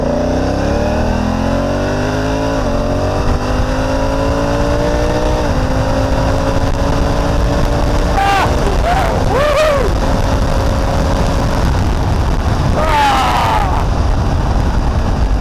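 A Honda Africa Twin motorcycle in sport mode accelerates hard from close range, its engine note climbing through several gear changes, with loud wind rush over the continuous roar.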